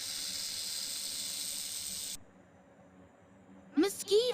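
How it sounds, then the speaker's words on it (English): A snake hisses in a steady, loud, breathy stream lasting about two seconds, followed by silence and then a short burst of voice. "Snake."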